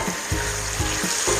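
Mushrooms frying in a pan for a mushroom pepper fry give a loud, dense sizzle with rhythmic stirring scrapes repeating about every half second, close up and without talk.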